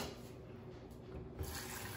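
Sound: rinsing a potato under running tap water

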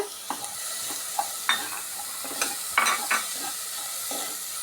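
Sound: stirring vegetables frying in a pan for chicken momos

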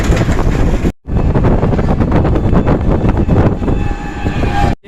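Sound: train

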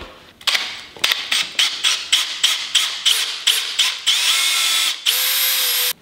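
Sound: power drill drilling

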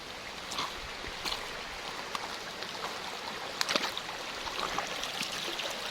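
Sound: clear stream flowing from Maduea waterfall

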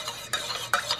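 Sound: spoon stirring coffee in a metal cup

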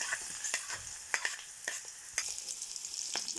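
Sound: shrimp frying with onions in a pan

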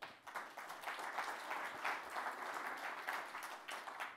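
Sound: audience clapping

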